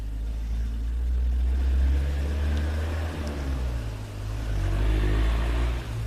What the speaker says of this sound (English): You could hardly make out the vehicle passing there.